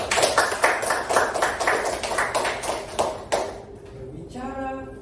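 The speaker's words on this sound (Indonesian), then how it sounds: "Beri tepuk tangan" A handful of students in an Indonesian-language class for foreign learners clap in a quick, steady rhythm for about three seconds. A voice then speaks briefly as the clapping stops.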